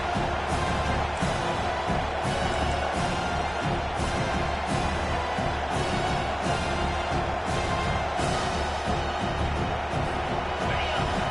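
Crowd noise roars steadily from a college football video game against Clemson on a third-down defensive stand, a dense continuous cheer rising under a play-by-play commentator's voice.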